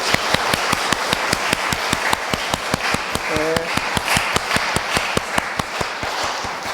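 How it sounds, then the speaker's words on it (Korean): Church congregation applauding after a musical performance at a Sunday service, steady rhythmic clapping filling the room throughout, with a brief voice or tone sounding in the middle. "우리 믿음에게 다시 한번 박수."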